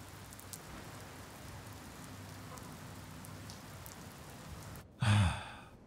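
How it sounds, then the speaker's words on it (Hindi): Steady, even hiss of heavy rain falling outdoors, a constant wash at moderate level throughout, broken near the end by a short louder burst. "बारिश बहुत तेज हो रही है"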